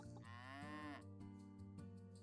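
Cows mooing in the farming video game Pumpkin Days: one long, loud, close bovine moo with a rising tone lasts about a second. Shorter lowing calls and soft game sounds follow, with no talking.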